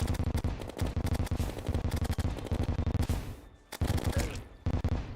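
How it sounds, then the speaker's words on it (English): Dense, rapid video game gunfire and explosions roll on almost continuously, loud and close, with a short lull before the barrage resumes. "Explosions!"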